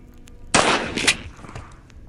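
Two sharp gunshots in a video game, a loud crack just past the half-second mark and a second a moment later, each with a short ringing tail over quiet background.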